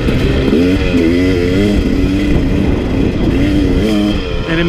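A 2017 KTM 300 dirt bike engine under way while ridden, a loud, close, steady motor drone with slight rises and falls in pitch throughout, no talk.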